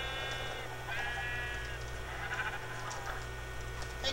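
Minecraft sheep on a PS3 bleat in a barnyard, with a few drawn-out, nasal bleats that sound synthetic. They sit over a steady low mains hum and come through faint and close, with no talk.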